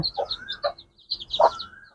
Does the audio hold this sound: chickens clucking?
yes